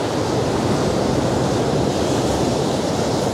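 Sea waves crash and wash steadily over a rocky shore, a loud, dense roar of surf without pause, with wind buffeting close to the microphone.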